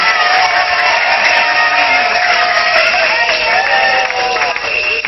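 A congregation at a pastor's consecration service in a Congolese church applauds and cheers, a loud, dense, continuous crowd roar with clapping blended in throughout.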